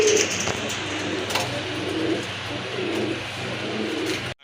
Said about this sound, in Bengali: অরিজিনাল রাজগোল্লা কবুতর, সাইজ অনেক বড়